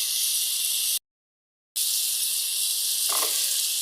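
Tomatoes with salt and turmeric fry in a pan with a bright, steady sizzle and hiss, cut by a brief silent gap, with a faint scrape of stirring near the end.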